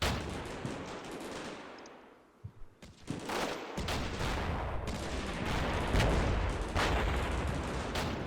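Battlefield gunfire and artillery in Combat Mission Shock Force 2, a dense continuous din of rifle and machine-gun bursts with booming impacts, loud and sustained after a brief quieter gap near the start.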